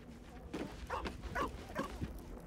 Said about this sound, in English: The dog is unable to speak through the small bag he holds in his mouth.